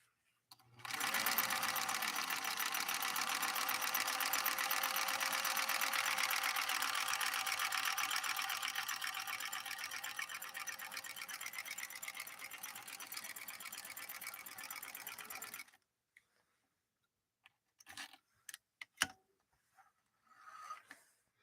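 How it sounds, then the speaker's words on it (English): A Bernina 125 portable free-arm sewing machine stitches zigzag with a steady, close mechanical whir that runs for about fifteen seconds and then stops, followed by a few scattered clicks and handling noises. "So you'll be able to see the full range of what this 125 can do with regard to a zigzag."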